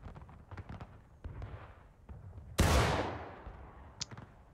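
A single loud, sharp rifle shot fired by the racer cracks out midway and rings off in a long, decaying tail, with scattered faint clicks and thuds before and after.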